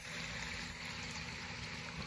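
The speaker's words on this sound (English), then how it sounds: "just listen to the sound of the water trickling, which is really nice" Steady rushing water from a waterfall at a summer camp in Maine, a continuous broad wash of trickling and splashing that holds constant throughout, close and fairly loud.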